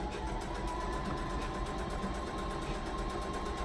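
A sewing machine stitches fabric for a homemade two-piece outfit, running slowly. It makes a steady, even mechanical whir with a faint tonal hum, close and uninterrupted, and no one speaks.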